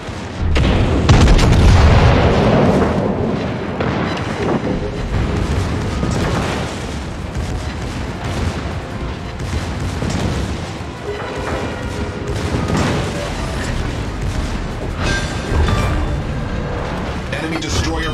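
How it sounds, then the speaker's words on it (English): In World of Warships naval combat, an enemy destroyer blows up amid heavy booming explosions and rolling gunfire, loud and dense over many seconds, with voices speaking. "Enemy destroyer blown up!"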